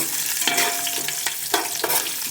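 Curry leaves crackle and sizzle in hot oil with the gas turned off, while making spiced puffed-rice bhadang, with a steady hiss broken by a few soft stirring scrapes. No one speaks.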